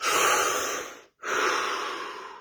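A deep breath taken slowly and close by: a long airy inhale, a brief pause, then an equally long breathy exhale, steady and fairly loud with nothing else around.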